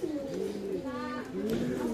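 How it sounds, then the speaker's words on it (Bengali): Pigeons cooing at a busy bird market, soft repeated coos close by, with people talking in the background throughout. "তো দেখেন ভাই এই কবুতরগুলো কত সুন্দর সুন্দর কবুতর এখানে যে।"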